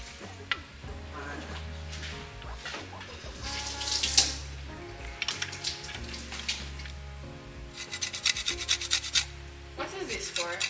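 Lemon washed under a running kitchen tap, steady water flow with rubbing and squeaking of the fruit's skin, close and moderately quiet, growing busier toward the end.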